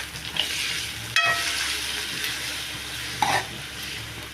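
Ingredients for tomato rasam sauté in a pan with a continuous close sizzle, broken by a couple of brief metallic clinks of utensil on pan.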